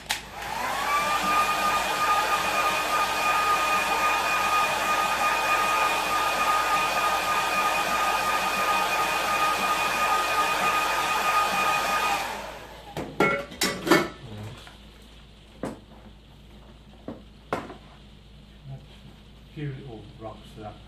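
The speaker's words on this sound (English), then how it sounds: "I'm going to dry it slightly." A hair dryer blows over a wet watercolour landscape painting, a steady, close whirring whine for about twelve seconds before it cuts off, followed by scattered clicks and light clattering of brushes and pots.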